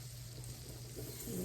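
Mashed sweet potato pancakes fry in a pan with a faint, steady sizzle over a low hum, and no one talking.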